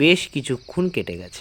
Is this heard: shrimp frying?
no